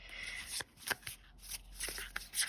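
Matte tarot cards riffled and shuffled by hand in quick overhand passes, a series of crisp papery flutters and soft taps close by, with brief pauses between bursts.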